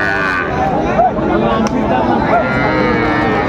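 A young bull calf moos several times at a busy rural cattle market in Dinajpur, loud and close, with crowd chatter and voices of buyers and sellers around it.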